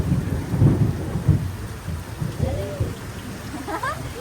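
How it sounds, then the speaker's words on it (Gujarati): Heavy rainstorm with lightning: deep thunder rumbles in rolling bursts over a steady hiss of pouring rain, fairly close, with a person's voice speaking faintly partway through. "ઓહાય બાપા કેવી વીજળી છે આગળ હરુડો છે સાંભળજો"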